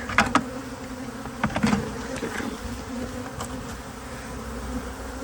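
Bees fanning inside a house, a dense continuous buzzing drone with louder bursts as individual insects pass close, no talking.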